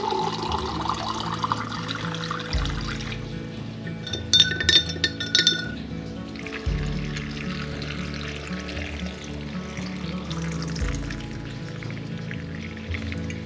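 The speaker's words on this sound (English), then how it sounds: "I'm just going to head over to my Berkey water filter and fill this up." Water poured from a Berkey gravity filter spigot into a glass jar in a kitchen, a steady trickle with a brief burst of glassy clinks partway through, heard alone without talk.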